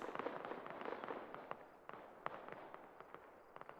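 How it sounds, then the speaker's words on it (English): Distant gunfire in ArmA 3, a faint scattering of sharp cracking shots and short bursts at irregular intervals over a low background rumble, with no talking. "Someone's having a gunfight in my left ear"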